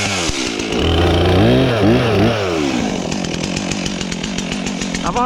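A Stihl MS362 or ported Echo CS4910 chainsaw cuts firewood up close, the loud engine rising and bogging as the chain bites into the log, then revving in rapid pulses; no voices.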